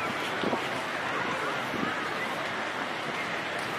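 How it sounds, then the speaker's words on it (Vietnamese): Strong seaside wind at a crowded Vung Tau beach buffets the camera microphone in a continuous loud rumbling roar, with faint surf and crowd murmur blended underneath. "này gió mạnh nha. Máy quay sẽ có những âm thanh bị ồ"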